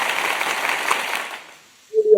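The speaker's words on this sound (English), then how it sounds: "Give Lissy a nice round of applause for being here." Brief applause from a small audience on a podcast, a steady wash of clapping that fades out after about a second and a half, followed by a short burst of voice.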